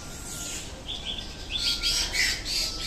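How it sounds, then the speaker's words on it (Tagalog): Many small birds chirp and tweet in an aviary, a busy overlapping chorus of high, quick calls over steady background noise, growing livelier toward the end. "Yun, mga ibon na maliliit."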